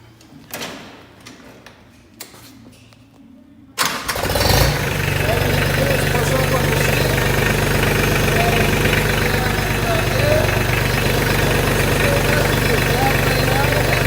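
Mahindra Max 24 compact tractor engine starting and settling into a loud steady idle while running its built-in hydraulics, preceded by a few clunks and knocks; the engine drone fills the rest, close and continuous.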